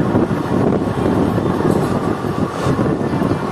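Kaviguru Express passenger train running fast on a curve, heard from on board as a steady, loud rumble with wind rushing past and continuous wheel-and-carriage noise, no voices.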